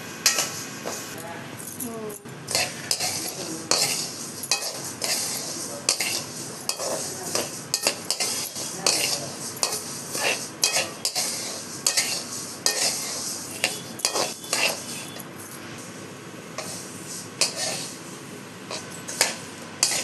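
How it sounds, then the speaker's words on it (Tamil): Fenugreek seeds dry-roast in a pan for sambar powder, with repeated rhythmic scraping and rattling of a spatula against the metal and only a faint sizzle, the strokes coming in close, steady bursts. "நெக்ஸ்ட்டு வந்து வெந்தயம் வந்து செவக்க வறுக்கணும்."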